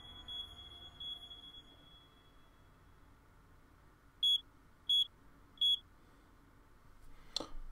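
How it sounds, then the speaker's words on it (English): An alarm in the video game Dark Nights with Poe and Munro gives three short, shrill electronic beeps at even intervals over a quiet background, followed by a brief sharp noise. "It's just an alarm."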